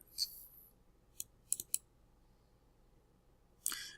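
A computer mouse gives a few quick, sharp, faint clicks, including a tight double-click, with soft clicks at the start and end and quiet room tone between.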